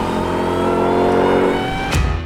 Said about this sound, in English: if you love the sound of a supercharger whine